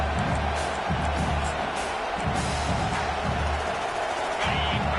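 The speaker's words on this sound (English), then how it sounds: "This crowd, full throat, splitting the eardrums" A stadium crowd roars continuously in a college football video game, a dense full-throated wash of cheering with scattered whoops rising above it, steady and loud across the whole stretch.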